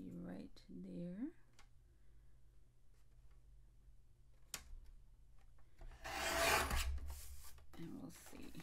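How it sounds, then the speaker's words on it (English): A short, close, raspy cut as a paper trimmer slices a quarter inch off a cardstock card panel, following a few quiet handling noises, with someone speaking briefly before and after. "I'm just going to trim this a quarter inch off of this, the top panel."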